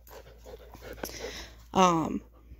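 A puppy pants softly and rhythmically, close by, then lets out one short, high whimpering whine near the end, with faint background noise throughout.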